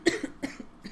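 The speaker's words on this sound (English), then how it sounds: "I don't know why I keep coughing for you guys." Two or three sharp coughs in quick succession, close and fairly loud, with no talking.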